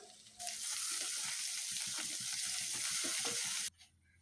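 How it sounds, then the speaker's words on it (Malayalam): Four medium sliced onions, two chopped green chilies and salt hit hot oil with ginger and garlic, setting off a loud, steady sizzle with faint stirring scrapes, then cutting off abruptly near the end. "ഇനി ഇതിലേക്ക് ഒരു നാല് മീഡിയം സൈസ് സവാള സ്ലൈസ് ചെയ്തത് ഇട്ട് കൊടുക്കുക"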